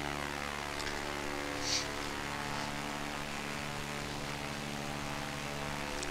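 Steady propeller drone of a simulated PA28 Cherokee single-engine piston plane in Microsoft Flight Simulator X, a constant even hum filling the whole stretch with no talk over it.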